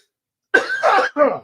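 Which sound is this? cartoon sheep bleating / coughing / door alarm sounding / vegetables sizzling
coughing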